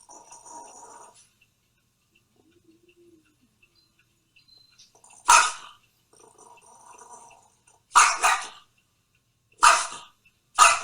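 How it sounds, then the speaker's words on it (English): Two dogs giving short, loud barks in sharp bursts, some in quick doubles, separated by quiet gaps, with faint sounds between. "Oh, it's just two dogs."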